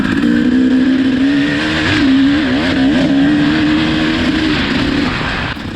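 A Honda four-stroke dirt bike ridden hard on a hot lap, its engine droning loud and close with continuous wavering pitch as the rider works the throttle, no talking.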